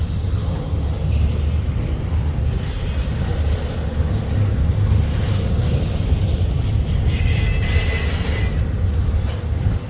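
A Norfolk Southern double-stack freight train rolling past, a loud, steady rumble of wagons with brief bursts of high wheel squeal, close by and continuous.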